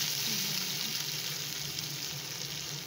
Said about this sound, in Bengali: প্রথমে কড়াতে আমি সরষের তেল নিয়ে নিয়েছি, আর এখানটায় আমি পেঁয়াজ দিয়ে দেবো